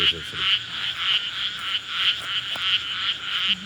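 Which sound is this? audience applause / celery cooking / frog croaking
frog croaking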